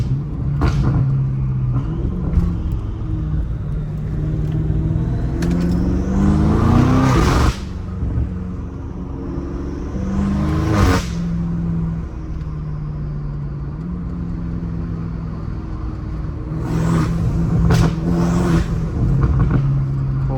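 Straight-piped BMW M5 Competition roars through loud, raspy revs close by, with a big throttle blip and sweep around the middle and more sharp revs near the end over a steady rumbling idle.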